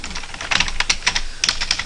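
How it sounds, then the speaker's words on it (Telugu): Quick bursts of keystrokes clatter on a computer keyboard, close and crisp, in uneven clusters of taps with brief pauses. "ఫస్ట్ నేమ్గా శ్రీరథాని లాస్ట్ నేమ్గా నల్లమూత అని చెప్పేసి టైప్ చేస్తున్నాను"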